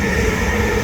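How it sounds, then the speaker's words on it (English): A big train rumbling past in Northumberland Park, Tottenham, north London, as a dense, steady roar that fills the short moment without any voices. "big train there"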